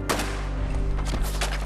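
Gunfire in the video game Fallout 4 comes as several sharp shots in quick succession, loud and close, over a low game background.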